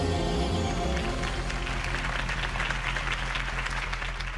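A crowd claps and applauds steadily, loud and sustained, over a faint musical tone at the start, in the video game Batman: The Telltale Series.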